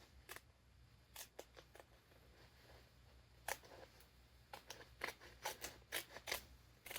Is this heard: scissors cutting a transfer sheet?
yes